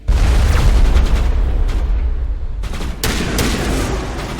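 Sniper gunfire in the video game Mass Effect sounds as a dense volley of loud, sharp shots and booms, dying down briefly before another burst of heavy impacts.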